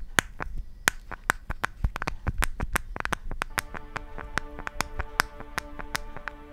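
The flimsy back cover of a Nokia Lumia 925 phone is pressed and flexed, giving a rapid run of sharp, close clicks and creaks with thin squeaky tones in the later part.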